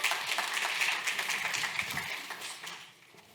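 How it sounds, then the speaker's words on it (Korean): Trainees at a training session receive a dense wash of group applause that holds steady, then thins and fades toward the end, with no voices over it. "박수 한번 부탁드립니다."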